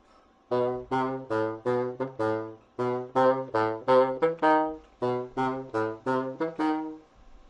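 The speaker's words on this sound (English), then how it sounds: "And that is the bassoon." Bassoon, a tall straight double-reed instrument, plays a lively run of short detached notes in quick rhythmic groups, reedy and close, with no voices over it.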